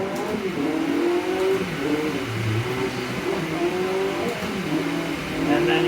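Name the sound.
rally car engine revving in video game Dirt Rally 2.0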